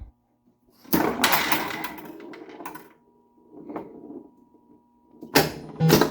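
A 1978 Gottlieb Close Encounters pinball machine powering up, giving mechanical clunks and whirring bursts with a steady electrical hum between them and a final loud clatter.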